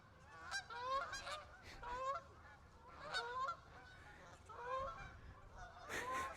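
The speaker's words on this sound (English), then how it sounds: "A lot of birds this morning." Geese honk outdoors in the morning, repeated bursts of loud nasal calls from several birds in irregular clusters, fairly close and alone with no talk.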